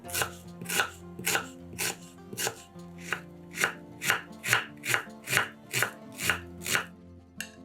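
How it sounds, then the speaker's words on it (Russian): A knife chops an onion into small cubes rapidly and rhythmically on a board, a long even series of close, crisp taps over quiet background music. "Половину луковицы тоже нарезаем мелкими кубиками."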